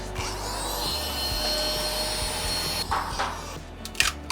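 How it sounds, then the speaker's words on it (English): A small vacuum cleaner runs nearby on a 3D print farm cleanup, a continuous whirring hum with scraping and knocking bursts toward the end. "See if my little vacuum will get it."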